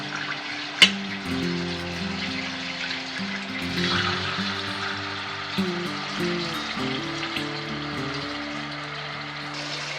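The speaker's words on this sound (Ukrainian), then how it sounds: "Маємо філе обсмажити з двох сторін." Chicken fillet frying in hot oil in a pan, a continuous close sizzle and crackle with a sharp clatter near the start and small pops throughout, no voices.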